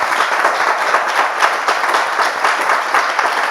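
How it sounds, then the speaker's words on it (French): A church congregation applauds loudly, a dense, steady burst of many hands clapping together that carries on without a break. "On peut s'applaudir bien fort."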